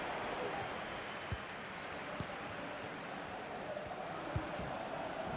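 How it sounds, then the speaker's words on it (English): A stadium crowd in the FIFA 23 football video game roars and applauds in a steady, broad wash of noise, with a few soft thumps. "The crowd have really got behind them today."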